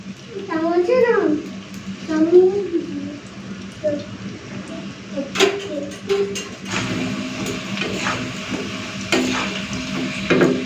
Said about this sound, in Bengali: তো এই পকোড়াগুলো ভাজা হয়ে গেছে তুলে নিচ্ছি